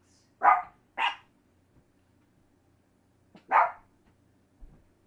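Dogs indoors bark in short, sharp bursts: two quick barks, a pause, then one more bark and a faint yip, close by with quiet gaps between.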